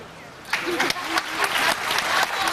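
Audience applause breaks out at a talk on polygamy and marriage, a dense burst of many hands clapping that starts abruptly and carries on steadily and fairly loud, with a few stray voices inside the crowd noise.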